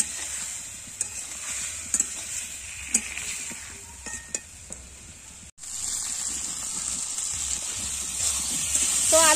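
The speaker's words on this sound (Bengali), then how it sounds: "একটু জল দিয়ে ওটা আমি নাড়াচাড়া করবো" Potatoes sautéing in a pan with a little water added hiss and bubble softly, with sharp spoon taps and scrapes of stirring, then the hiss swells louder and steadier after a brief break.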